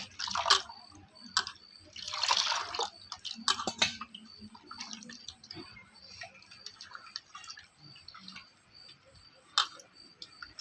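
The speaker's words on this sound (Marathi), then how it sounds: "आता ह्याच्यात आपण ना पाणी घालायचंय एकदम असं पातळ करून घ्यायचं" Water is poured into rice flour batter made from ration rice and stirred thin by hand, producing sporadic wet clicks, soft splashes and scraping taps in an irregular rhythm, close and moderately loud with brief quiet talk.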